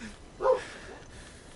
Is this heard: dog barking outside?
yes